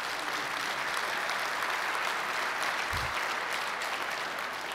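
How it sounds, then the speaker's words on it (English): Sustained applause from a large audience at a public transportation rail conference, a dense, even roar of many hands clapping continuously for several seconds, with no speech over it. "Let's give them all a big round of applause."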